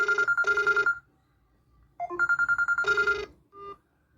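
Incoming-call ringtone from a Kospet Tank S1 smartwatch: a bright electronic melody in repeated bursts, playing twice with a short gap, then a brief final note, clear and close with no talk.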